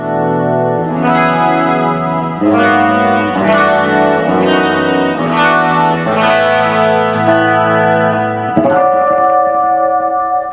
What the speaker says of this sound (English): Put the two together, the short delay and the long delay, and you get what kind of a nice airy sound.